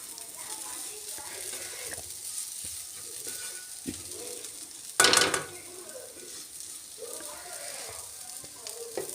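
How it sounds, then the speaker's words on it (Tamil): Potato fries cooking in a pan give a low steady sizzle, with soft utensil scrapes and one sharp loud clank partway through, heard close and without speech. "நேரம் ஒரு 2 நிமிஷம் ஓகேங்களா ஃப்ரை பண்ணி விடுங்க."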